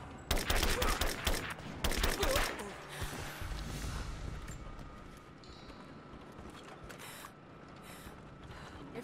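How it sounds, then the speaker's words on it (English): Suppressing gunfire in the Rise of the Tomb Raider video game, a loud dense burst of rapid shots up close that thins into a rattling, mechanical clatter, with voices faintly mixed in. "Give me suppressing fire now!"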